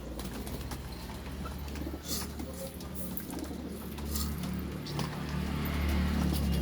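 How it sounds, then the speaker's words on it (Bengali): Pigeons being fed at dusk coo softly and steadily, with faint rustles, wing flutters and a low background hum, no talking. "এখন সন্ধ্যাবেলা, এখন পায়রাদের খাওয়াচ্ছি।"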